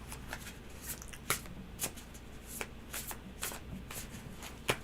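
Tarot cards are shuffled by hand up close in a quiet room, with a series of crisp riffling snaps and soft slides coming in irregular bursts, and no talking.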